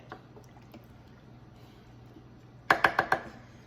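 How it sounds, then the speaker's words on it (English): Slow cooker chicken chili with tomato sauce gets a final stir: a quiet, steady hum, then four quick wet scraping strokes close together near the end. "let's give this a final stir"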